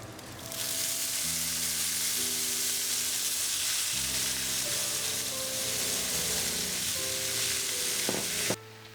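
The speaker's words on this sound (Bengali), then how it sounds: "এখন এই প্যানেই আমরা স্পিনিচ কুক করে ফেলবো।" Spinach sautéing with a dash of oil in a covered pan gives off a loud, steady sizzle and hiss that runs for about eight seconds before cutting off abruptly, with no talking.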